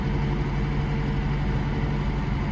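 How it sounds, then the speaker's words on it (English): A McLaren 570S with 30,735 miles, said to sound off and throwing faults, idles in a steady, close low rumble with a constant droning tone and no talk. "We're starting the McLaren."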